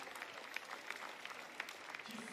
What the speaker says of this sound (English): Applaudissements pour Agathe Guimau